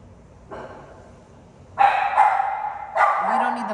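Several bursts of dog barking, loud and close, with a short yip early on and a louder run of barks toward the end.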